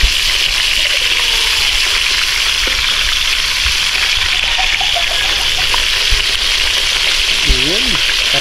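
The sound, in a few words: frying freshly caught fish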